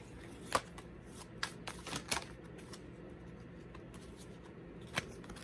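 A deck of tarot cards being shuffled in a quiet room, crisp riffling snaps and brisk card slaps scattered across the stretch, with a few sharper flicks standing out against a soft background hiss.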